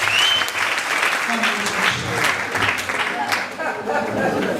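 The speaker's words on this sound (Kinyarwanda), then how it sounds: "Reka tumukomere amashyi menshi cyane" A crowd at a large church gathering breaks into loud, sustained applause, dense clapping close by, with a voice heard speaking over it.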